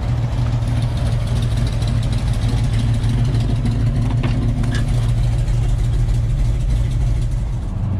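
Car engine idling steadily at close range, a low, even rumble that holds for several seconds with a faint rattle midway, no talking.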